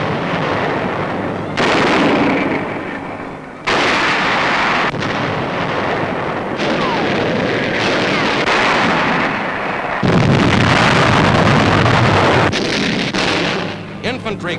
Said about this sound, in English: Anti-personnel shells burst high in the air.